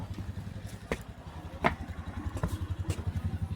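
Royal Enfield motorcycle idling as it warms up, a steady thumping single-cylinder pulse close by, with a few sharp clanks breaking through the rhythm.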